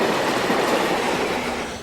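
A train rolls past on a Portuguese railway line, a dense, loud rumble of wheels on track that holds steady and fades slightly at the end.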